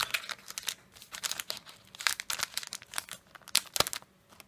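Crinkling plastic wrapper of a Japanese Pokémon XY8 Red Flash booster pack being torn open and handled, a steady run of close, dry crackles and rustles with sharper bursts, no voices.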